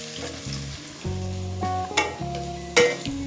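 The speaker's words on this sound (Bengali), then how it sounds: "পেঁয়াজটাকে ব্রাউন করে ভেজে নেব" Chopped onions frying in a pan until brown for chicken polao, a soft steady sizzle sitting beneath louder tonal background music, with a couple of brief louder clinks near the middle and end.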